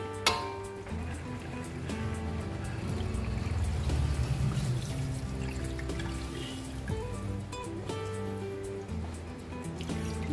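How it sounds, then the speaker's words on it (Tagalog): Water pours steadily into a cooking pot of linarang soup, a continuous splashing gurgle that lasts several seconds, close and fairly loud, with faint clinks in the background. "Then add tayo ng tubig."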